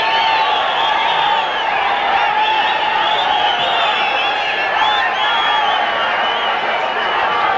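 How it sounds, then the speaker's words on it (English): A football stadium crowd at the 1990 Marlboro Cup match between the USSR and Costa Rica keeps up a loud, steady roar with whistles and shouts, unbroken and distant-sounding, with a commentator's voice talking over it. "Crowd getting a bit anxious that time is being wasted here."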